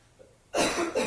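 A woman in a courtroom gives a sudden harsh cough after a brief quiet pause, then a second shorter cough close to the microphone.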